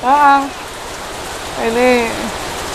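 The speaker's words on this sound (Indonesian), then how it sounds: "Ini tumben ini hujan kayak gini terus ini." Heavy rain pours steadily at a rural goat-raising farm in the rainy season, a dense, continuous hiss filling the whole clip, with two brief tonal voiced calls rising over it near the start and middle.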